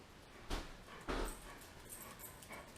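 Dogs whimpering in two short, faint bursts about half a second apart, with quiet background between them and no talk.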